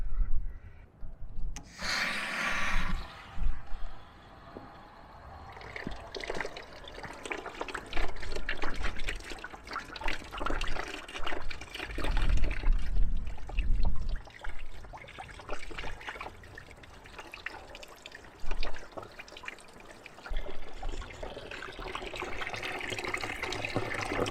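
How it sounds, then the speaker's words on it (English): Clean water rinsing through a tractor's cooling system, an uneven trickling and splashing flow that comes in bursts and rises and falls in loudness, close by and with no talk. "I'm gonna rinse the system with clean water."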